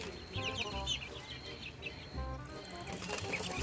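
Cochin bantam chickens clucking in short bursts from close by, with some wing flapping, other birds calling and steady background noise throughout.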